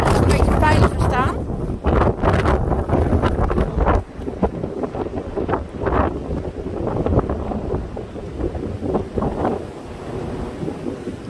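Strong wind blows outdoors near trees with broken-off branches, roaring and buffeting the microphone in loud, continuous gusts, with a person talking throughout.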